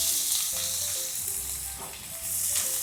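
Shallots and garlic sizzle in hot oil in a pan, a continuous bright frying hiss with a few soft stirring scrapes, close and steady with no talking.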